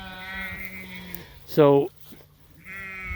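A sheep in a grazing flock lets out one loud, close, wavering bleat, and other quieter bleats sit under someone speaking outdoors.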